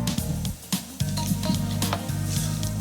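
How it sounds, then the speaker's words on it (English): A vegan soup tinted with ground turmeric and holding pasta is stirred in a pot, with a soft continuous simmering sizzle and light scraping of the spoon, close and steady without talk. "Stir it about a little bit."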